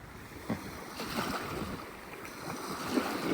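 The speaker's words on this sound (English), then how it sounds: "Waves landing from two different directions right here." Atlantic beach surf with waves rolling in from two directions, a steady rushing wash with soft crashing swells and some wind, moderately loud and continuous, with no voices.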